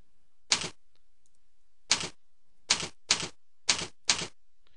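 Six crisp keystrokes in an uneven rhythm as a password is typed on a computer keyboard, each key clicking sharply against near silence.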